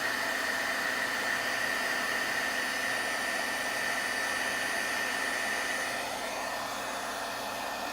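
A heat tool for embossing blows hot air in a loud, steady, close whoosh with a faint whine, running continuously throughout without talk.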